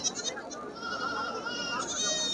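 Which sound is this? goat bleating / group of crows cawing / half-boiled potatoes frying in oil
goat bleating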